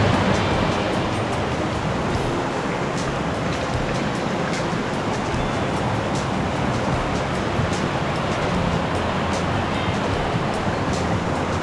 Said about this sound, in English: So we're at one of these waterfalls